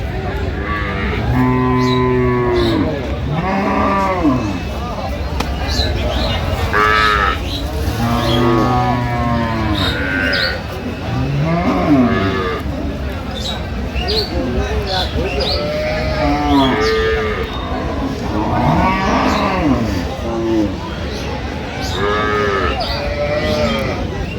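Sahiwal cows and calves mooing repeatedly at a busy rural cattle market, loud close lowing calls rising over constant crowd chatter and background bustle.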